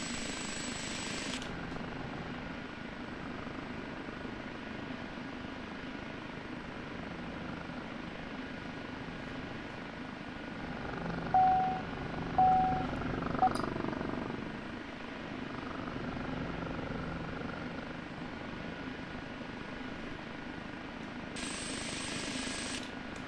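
In the DCS flight game, an OH-58D Kiowa Warrior helicopter hovers, its rotor and turbine making a continuous steady drone with a few brief soft bumps partway through, with no speech.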